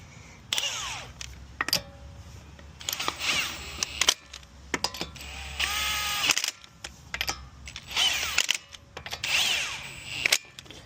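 Lug nuts being run down on a Nissan Stagea wheel with a power tool during a ball joint job, several short whirring bursts separated by pauses and clicks of the socket.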